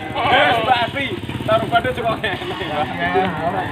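Etawa goats bleat at an outdoor livestock market, with a motorcycle engine idling nearby, while a person talks over the scene.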